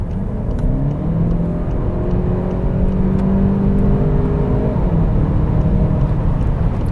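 A 2018 Volkswagen Golf GTE plug-in hybrid accelerates hard from 100 km/h on a highway to overtake. The engine note rises in a smooth whirring climb over steady road and wind roar, heard loud from inside the cabin.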